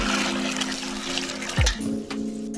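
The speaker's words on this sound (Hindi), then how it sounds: "चावल धो देते हैं।" Rice being washed in water while making kheer in a home kitchen, with running and sloshing water throughout and a brief louder splash partway through.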